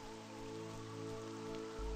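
Rain from the psychological horror exploration game Divinity Fatum falls steadily in a gray city, a soft continuous patter with no talking.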